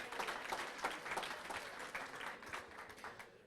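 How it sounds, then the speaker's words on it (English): Audience applause for first-time attendees at a 1 Million Cups Wichita startup meeting, a steady wash of many hands clapping at moderate distance, fairly quiet and continuous for the whole stretch. "Let's give them a round of applause."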